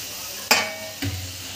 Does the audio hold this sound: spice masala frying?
yes